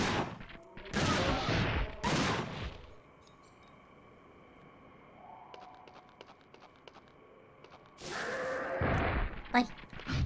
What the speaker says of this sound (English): Gun shoot!